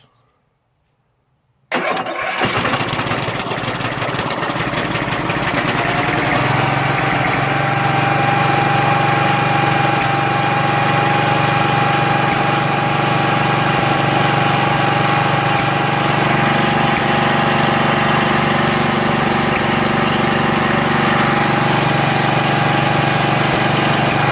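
After a brief silence, a tractor engine, choke on and recently repaired with a new head gasket and cleaned carburetor, cranks and catches, then settles into a loud, steady running chug that continues for about twenty seconds.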